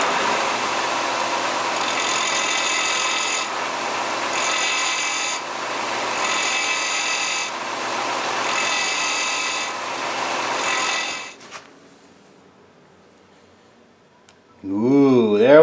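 A power sander with a worn, fraying sandpaper disc buzzes loudly and steadily for about eleven seconds, pulsing slightly, then stops, followed by quiet and a brief voice at the end.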